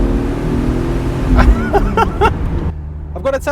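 A BMW 328i E36 engine runs with a low, smooth drone from inside the car while a person talks over it, the hum continuing steadily beneath the voice.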